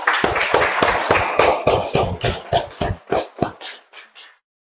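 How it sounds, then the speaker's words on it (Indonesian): A classroom audience claps in a burst of applause, loud at first, then fading into scattered, slower claps that die away to silence. "Kita berikan aplaus."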